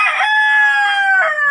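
A Fayoumi rooster crows loudly and close by, one long drawn-out cock-a-doodle-doo call, clear and strong, with no talking.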